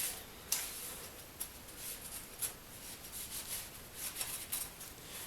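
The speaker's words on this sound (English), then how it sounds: "I'm going to clean the block surface" Soft, close scraping and rubbing as the surface of a 2.0L 420A engine block from a Dodge Neon or Eagle Talon is wiped clean, with faint irregular scuffs and light ticks throughout.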